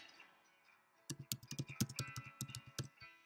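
Fingers type on a computer keyboard in a quiet room, starting after a short pause with a quick, uneven run of close, crisp key clicks that continues to the end.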